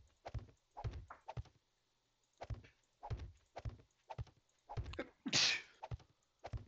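A single sharp sneeze, loud and close, stands out among a series of dull thunks and knocks spaced irregularly in the 7 Days to Die game.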